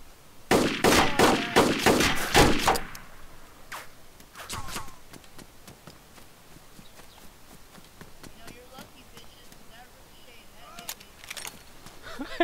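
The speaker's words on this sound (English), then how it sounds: "Somebody else shot when I was shooting just now." Rapid gunshots in a video game fired through a wall, a tight cluster of sharp bursts up front, then scattered single shots, with someone talking quietly over the quieter stretch.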